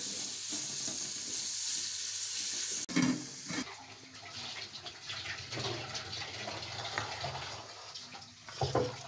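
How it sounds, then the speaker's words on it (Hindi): Mixed vegetables including cabbage frying in a pan for malai sabzi, a steady bright sizzle with stirring scrapes, then quieter bubbling and clatter after a sharp break; no talk. "अब इसको हमें हल्के हल्के फ्राई करके"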